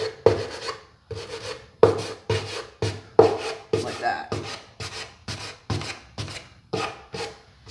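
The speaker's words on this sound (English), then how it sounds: "you're taking your sander and you're kind of pushing up" Light wooden furniture being sanded to distress it, a sander pushed upward in about a dozen steady, rhythmic rasping strokes, close and moderately loud with short pauses between passes.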